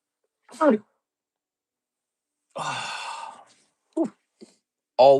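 A single sharp sneeze, then a long sighing exhale, followed by a couple of short breathy sounds; close and fairly loud with silence between.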